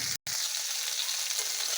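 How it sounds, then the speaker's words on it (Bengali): Slices of bitter gourd fry in hot oil, giving a close, steady sizzling hiss that drops out for an instant near the start. "এই তেলে দিয়ে দিয়েছি উঠছে উচ্ছে বা করলা যেটাই বলবেন"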